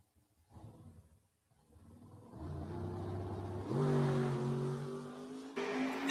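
A drag race car at a Northern Nationals qualifying session builds from a low idle into a rising, revving engine roar as it launches down the strip, growing louder and harsher toward the end.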